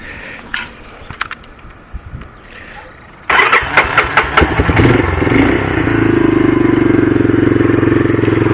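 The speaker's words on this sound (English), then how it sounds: "So let's fire it up." A 1985 Honda ATC250SX three-wheeler, started after a year of storage, gives a few quiet clicks, then cranks with sputtering bursts and catches into a loud, steady close-up idle.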